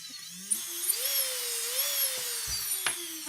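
A small e-foil electric motor whirs briefly, a high whine that rises and dips for a couple of seconds, followed by faint clicks, close and quiet.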